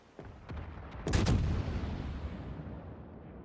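A World of Warships naval broadside goes off as a few quick shots followed by a heavy boom that rolls into a long rumbling decay, alone and loud.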